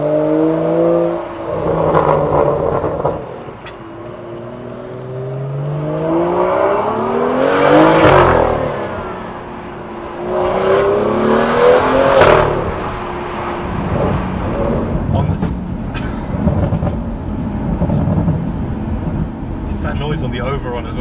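A BMW M2 F87 with an iPE aftermarket exhaust revs hard, its loud engine note swelling and falling in repeated surges and sweeping pitch, nearby, with people talking over and between the revs.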